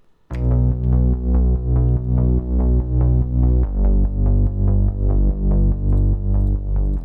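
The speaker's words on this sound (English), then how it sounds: "he has this repeating bass" A deep synth bass line repeats a short pulsing pattern over and over, each note attacking sharply before sustaining, loud and alone.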